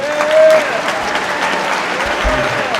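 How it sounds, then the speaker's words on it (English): An audience at the Hidden Genius Project 2017 end-of-summer celebration gives a round of applause, steady dense clapping throughout at an even, fairly loud level, with no words spoken. "so please give yourselves a round of applause."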